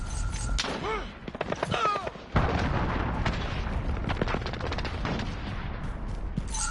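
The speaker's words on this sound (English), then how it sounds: "Allied cruise missile away." Cruise missile strike in Call of Duty amid chaotic multiplayer combat: scattered gunfire and chirping effects build to a sudden heavy blast at mid-clip, followed by sustained loud rumbling debris and explosions.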